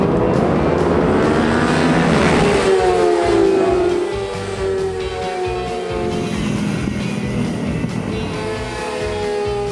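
Vintage road racing motorcycles scream past at high speed on a road racing course, a loud sustained engine roar with a rising then falling pitch sweep as a bike passes close, followed by steady engine drone.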